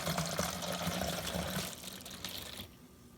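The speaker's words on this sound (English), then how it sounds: "we're going to pour the water into the funnel, or into the" Water poured from a container through a funnel into a water bottle over a pan, a steady gurgling pour that thins out and stops near the end.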